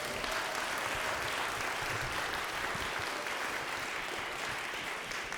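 Audience applause at a community concert honoring the composer Florence Price, a dense, steady wash of many hands clapping together that holds evenly throughout.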